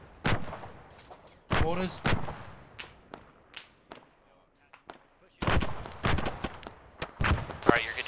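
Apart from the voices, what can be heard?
gunfire in video game Arma 3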